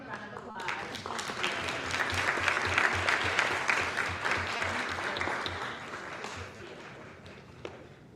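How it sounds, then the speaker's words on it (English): A council meeting audience applauds together in a full, sustained burst of clapping that rises and then gradually thins out over several seconds, with a faint voice beneath it. "let's give them a round of applause"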